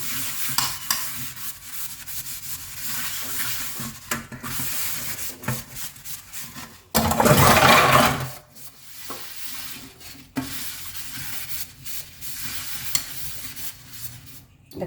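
Dishes are scrubbed with homemade dishwashing liquid, repeated rough rubbing and scraping strokes, close up, with one louder burst of harsh friction midway.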